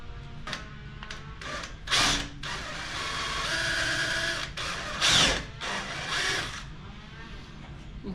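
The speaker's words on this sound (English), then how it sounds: "I'm gonna just slowly drill a hole where I have it marked." A power drill with a 5/16 drill bit slowly boring a hole during a dash mount install, whirring in several short bursts with pauses between, close and moderately loud.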